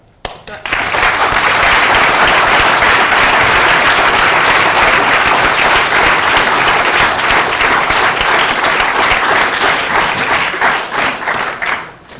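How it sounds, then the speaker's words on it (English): An audience at a veterinary summit breaks into applause, a dense, steady wash of clapping that swells quickly, holds loud and even, then thins out toward the end. "I think that deserves a round of applause of itself"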